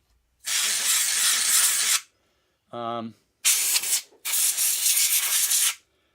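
Canned air blasting dust out of a Dell Studio XPS 8100 desktop computer, three loud, close, hissing bursts of a few seconds each, with a short buzzing vocal sound between them.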